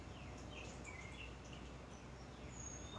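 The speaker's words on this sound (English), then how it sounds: "There were sounds of birds." Birds singing outdoors by a back porch, faint scattered chirps and calls over a steady low background hiss, with insect-like buzzing and no talk.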